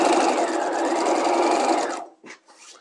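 A sewing machine stay stitches along the half-inch seam allowance of a dress bodice, a loud steady run for about two seconds, then stops, with a couple of short quieter bursts as the fabric is moved on.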